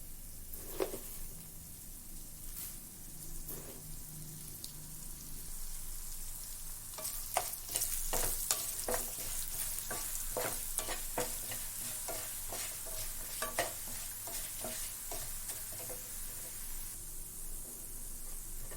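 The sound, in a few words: cumin and coriander seeds frying in oil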